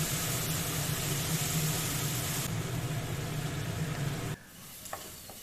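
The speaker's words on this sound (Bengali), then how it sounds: "আমি একটু জল দিয়ে ভালো করে মশলাটা কষিয়ে নিচ্ছি।" Spice paste with turmeric for Bengali-style potoler dorma sautés in a pan with a splash of water, a loud, steady close sizzle that cuts off sharply near the end, leaving only faint light clinks.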